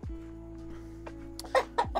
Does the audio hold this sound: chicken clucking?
yes